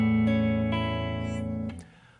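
Acoustic guitar fingerpicking pattern with the thumb bass alternating between the 5th and 6th strings, ringing chords with a few plucked attacks, close and clear, fading at the end.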